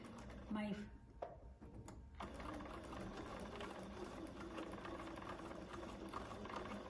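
Sewing machine top stitching a bag at a 3.4 stitch length, running in a steady continuous hum for most of the clip after a few brief handling knocks and a voice at the start.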